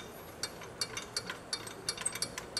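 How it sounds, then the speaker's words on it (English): A power steering belt adjuster on a 1999 Mitsubishi Mirage being turned by hand gives a quick series of small ratcheting clicks, close and quiet, in an uneven rhythm with no talk. "you can turn the adjuster by hand again"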